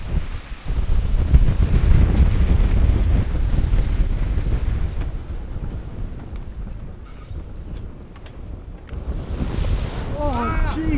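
Strong wind roars over the open sea on the edge of a hurricane aboard a sailing boat, a loud, steady buffeting rush with waves and water splashing around the hull and gusts hitting the microphone.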